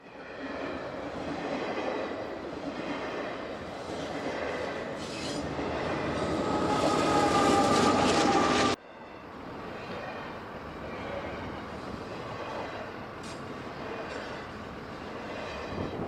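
A CPKC freight train on a mountain main line, with KCSM AC44 locomotives working as distributed power, rumbles past close by: steady roar of wagons and wheels with squeal and rhythmic clatter, cutting abruptly to a quieter, continuing rolling rumble.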